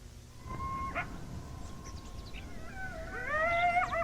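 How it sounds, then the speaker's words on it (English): Coyotes howl in an eerie horror setting: thin rising and falling wails, followed by a cluster of overlapping quavering yips and howls that swell near the end over faint background noise. "Coyote howls, okay."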